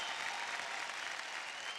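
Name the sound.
audience applause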